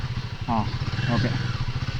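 Royal Enfield Himalayan motorcycle engine idling on an off-road forest route, a steady low throbbing close by, with people talking over it.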